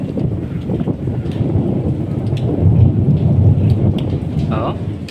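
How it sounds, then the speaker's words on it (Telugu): Heavy monsoon rain pours steadily while deep thunder rumbles and rolls through the whole stretch, loud and close, with a faint crack of higher sound near the end. "ఉరుముతుంది."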